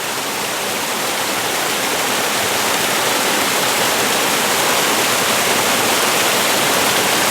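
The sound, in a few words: waterfall flowing over rocks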